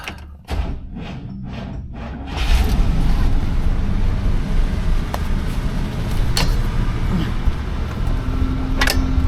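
A 1967 Cadillac Deville cranks briefly with a choppy starter rhythm, then catches into a loud, steady V8-style idle rumble that holds close to the end, with a few light clicks over it.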